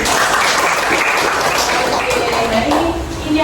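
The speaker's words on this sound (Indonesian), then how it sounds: "Tepuk tangan untuk kita." Applause from a class of participants at a university teaching session, a dense steady burst of many hands clapping close by for a few seconds, with faint voices mixed in.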